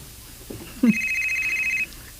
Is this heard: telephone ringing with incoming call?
yes